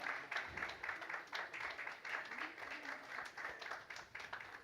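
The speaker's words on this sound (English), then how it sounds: "Can I have a louder round of applause for this woman?" Audience applause at an award night for a consumer film festival, a fairly faint but continuous patter of many hands clapping with a pulsing rhythm and a murmur of voices underneath.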